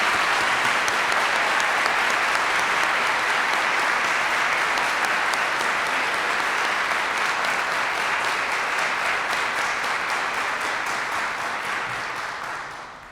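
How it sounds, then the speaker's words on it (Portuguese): Audience applause fills a concert hall at the closing concert of an international winter music festival, saluting the ensemble with sustained, dense clapping that holds steady for about twelve seconds before tapering slightly at the end. "Uma salva de palmas mais uma vez para esse maravilhoso conjunto."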